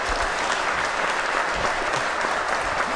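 An audience claps on a TV talk show, a dense, even wash of applause that stays steady and fairly loud throughout the few seconds.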